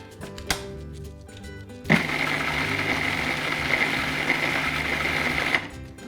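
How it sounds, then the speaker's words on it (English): A kitchen blender whirs steadily for about four seconds as it purees cilantro lime sauce, starting abruptly after a couple of clicks and stopping just as sharply, close and loud with a high motor whine. "put on the lid and blend until it's nice and smooth"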